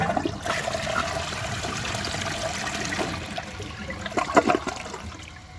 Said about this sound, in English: This toilet has no mineral buildup and no trapway obstructions, so I think that it will pass a washcloth just fine.